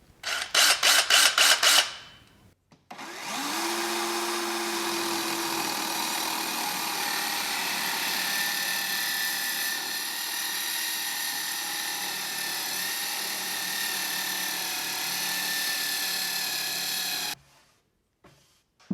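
A short buzz of a tool, then a 3.5-inch Black & Decker Matrix circular saw attachment whines steadily as it plunges through cherry wood for about fifteen seconds, loud and close.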